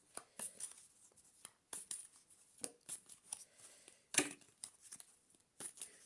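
Tarot cards being shuffled by hand, soft papery riffles and flicks in irregular bursts with short pauses, close and quiet, no talking.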